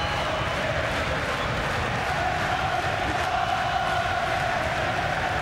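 A boxing arena crowd at the Nathan Cleverly vs Karo Murat fight roars and cheers in a steady, unbroken wall of noise, with faint commentary voices mixed underneath.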